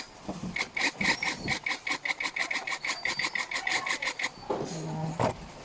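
A power driver runs bolts into a black mesh executive office chair, giving a rapid, regular whirring rattle for several seconds, then a short pause and a final brief burst, close up.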